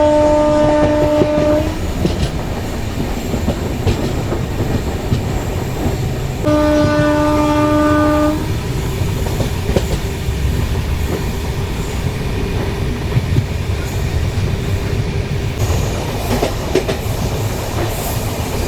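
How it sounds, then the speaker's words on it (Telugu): The Sabari SF Express, train 20630 from Tirupati to Secunderabad, rolls along with a loud continuous rumble and clatter of wheels, while two long horn blasts ring out early, one at the start and another a few seconds later. "మన ట్రైన్ అయితే నడికుడి జంక్షన్కి అయితే వచ్చింది, బయలుదేరిపోయింది"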